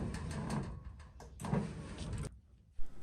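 A Merlin MR655/MR855 garage door opener drives the door downward with a steady mechanical rumble and hum that runs for about two and a half seconds, stops abruptly, then ends with a brief clunk.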